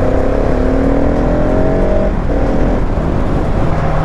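A 2022 Husqvarna 701 Supermoto single-cylinder engine revs hard and loud up close, its pitch climbing steadily, dropping briefly, then climbing again over a constant roaring base.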